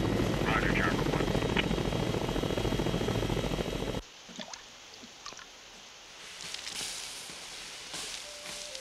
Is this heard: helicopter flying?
yes